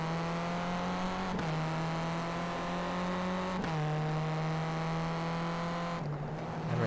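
Renault Clio Cup race car at Snetterton circuit, engine revving hard with steadily rising pitch, broken by two sharp gear shifts and a third lift near the end, loud and close.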